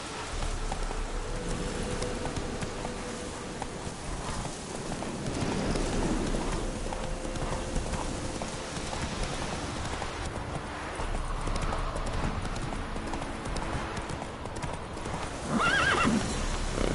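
Roach the horse in The Witcher 2 galloping with rapid clip-clop hoofbeats, whinnying at points, over a steady hiss of rain in the background.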